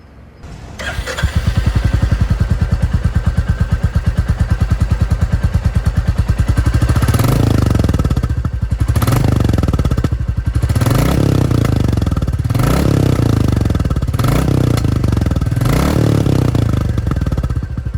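A Royal Enfield 350cc motorcycle starts and settles into a loud, close thumping exhaust note, then revs repeatedly in a steady series of rising bursts, with no talking.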